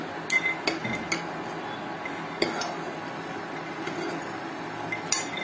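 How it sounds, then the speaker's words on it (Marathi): Roasted peanuts are scraped and tipped from a pan onto a plate, making light clinks and scattered taps against low background noise, close by. "शेंगदाणे भाजलेले एका प्लेटमध्ये काढून घ्या"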